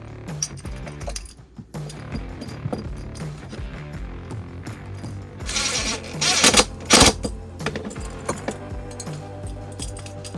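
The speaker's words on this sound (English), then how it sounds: "Go on the bottom side, nylock washers" Bolts and nylock washers being fitted while installing a Bimini top on a jon boat, giving scattered metallic clinks and rattles, with a brief louder burst of clattering handling near the middle, close by and without voices.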